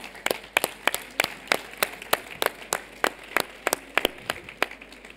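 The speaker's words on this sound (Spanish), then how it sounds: "Venga, un aplauso al voluntario" A few people clap for a volunteer at a cooking workshop in Seville, in sparse, uneven hand claps of about three per second that stay modest and nearby for the whole stretch.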